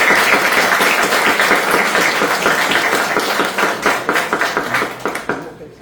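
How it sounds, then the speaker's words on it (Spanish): Audience applause at an academic conference, dense and loud clapping filling the room and then thinning into scattered claps as it fades out. "les pido un fuerte aplauso para ellos"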